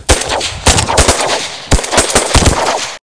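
Shotguns fire during a duck hunt in Rostov, several sharp blasts in quick pairs and bursts, loud and close, with their echoes rolling away outdoors.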